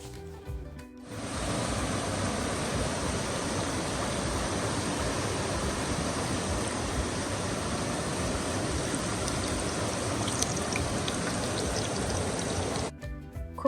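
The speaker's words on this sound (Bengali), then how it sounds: "জোরে বৃষ্টি ছিল না গুড়ি গুড়ি বৃষ্টি ছিল" Light drizzle falling outdoors makes a steady, even wash of soft hiss that starts abruptly, holds at a constant level for about twelve seconds, then cuts off, with no voices.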